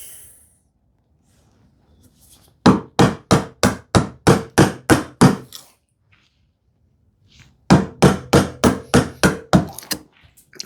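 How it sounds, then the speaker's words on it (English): A narrow chisel struck by hand during woodworking, heard as two close, loud runs of about ten sharp, evenly spaced mallet blows each, separated by a few seconds of near silence. "Let me use a slightly narrower chisel."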